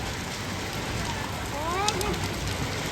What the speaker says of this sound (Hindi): हाँ, छोटे छोटे ओले हैं।